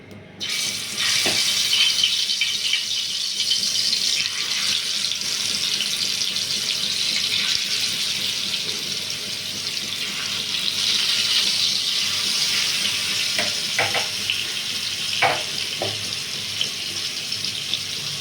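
Red koduva fish frying in hot oil on a tawa, a loud steady hiss of sizzling that runs unbroken throughout, with a few brief crackles and clicks near the end.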